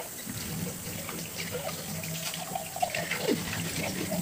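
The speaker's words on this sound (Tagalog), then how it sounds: "banlawan na natin siya ng paisa-isa sa running water" Baby bottles being rinsed one at a time under a running faucet, a steady wash of tap water with brief clinks and splashes near the end.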